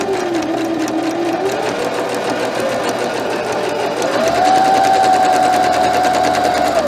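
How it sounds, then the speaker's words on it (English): A sewing machine runs steadily while stitching the casing of pajama pants, its motor whirring at a constant close-up drone that rises slightly in pitch partway through, with no talking. "And I'm going to stitch carefully at the bottom of the casing."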